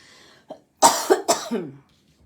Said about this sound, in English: I had a bit of a cough.